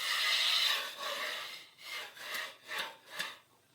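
A 4-inch knife scrapes along screw heads on an interior stucco wall, giving a close scratchy rasp followed by a series of short, rhythmic scraping strokes that fade in and out.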